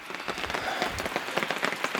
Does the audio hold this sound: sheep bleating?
no